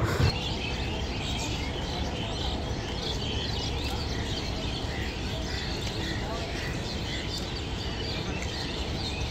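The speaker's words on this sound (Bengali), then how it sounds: "পাখির কিচিরমিচির সকালবেলা শুনতে ভালোই লাগতেছিল" Birds chirp and call continuously through an early morning rest stop on a Sylhet to Dhaka trip, a steady dense chorus with a constant background rumble throughout.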